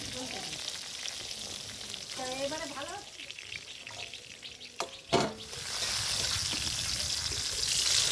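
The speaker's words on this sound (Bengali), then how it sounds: "বেগুন ভাজা হয়ে গেল" Eggplant slices from a home garden frying in a little oil in a pan, a steady sizzle with a few stirring scrapes and brief clatters, close and moderately loud, with some faint background voice.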